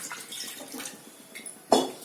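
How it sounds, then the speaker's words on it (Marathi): Water poured into a pressure cooker holding dal, a short splashing trickle with light sloshes, ending in a sharper splash or clink near the end, close and moderately quiet. "त्याच्यात पाणी टाकूया,"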